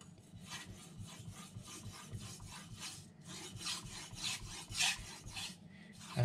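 Steady back-and-forth scraping of a knife across a hard Naniwa Aotoshi whetstone with slurry, regular gritty strokes, close and fairly quiet, with no voices.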